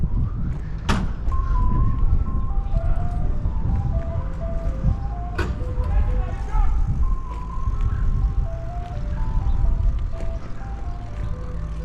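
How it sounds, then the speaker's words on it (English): An ice cream truck cruises around a neighbourhood, its chiming tune, which is not Turkey in the Straw, looping steadily over road noise and engine rumble, with a couple of sharp knocks in between. "And we've got the ice cream truck coming around."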